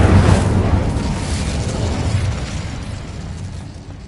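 A magical fire spell bursts into flame with a loud whooshing boom up front, then a roaring rush that slowly fades over a few seconds.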